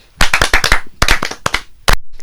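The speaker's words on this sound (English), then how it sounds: "Très bien, applaudissez." Clapping in a French language lesson, a handful of sharp, separate bursts of claps, close and fairly loud, in uneven clusters over about two seconds before it stops.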